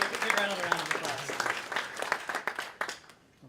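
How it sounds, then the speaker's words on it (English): Audience at a conference talk on Apache Spark applauding, a modest round of clapping that thins out and fades over a few seconds. "Give Ronald a round of applause."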